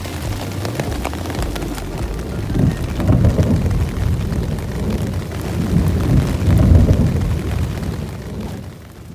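A thunderstorm over a Boundary Waters wilderness campsite: a continuous hiss of rain with low, rolling thunder rumbles that swell and fade several times, and no voices.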